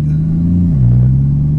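A Porsche 981 Cayman S with a Fabspeed race exhaust idles from a cold start, a loud, close, deep exhaust drone that dips slightly in pitch partway through, with no voices.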